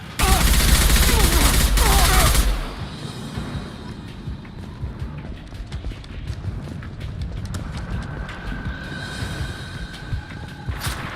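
Rapid gunfire bursts in the video game Mass Effect 2 Legendary Edition, loud for the first two seconds, then lighter scattered shots, thuds and clatter with muffled combat voices.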